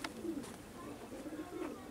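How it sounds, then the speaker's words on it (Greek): A pigeon coos softly in a low, repeated throaty rhythm, a few close calls spaced across the moment, with faint background noise and no clear talk. "έχει φτάσει πολύ μέσα αυτό το περιστέρι"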